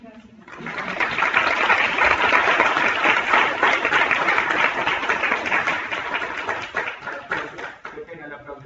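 Audience applause at a panel discussion rises quickly and stays strong for several seconds, a dense continuous clatter of many hands that tapers near the end.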